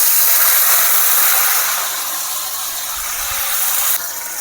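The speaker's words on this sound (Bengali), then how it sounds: "এখন আমি ঝোলটা দিয়ে দিচ্ছি।" Liquid poured into spiced curry frying in oil gives a loud, close, continuous hissing sizzle that eases slightly midway and drops off near the end.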